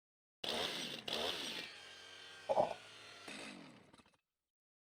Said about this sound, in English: It's a chainsaw?